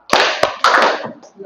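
Children clapping hands together in a classroom clapping game, several sharp group claps in an uneven burst rhythm, close and loud, with voices mixed in around them.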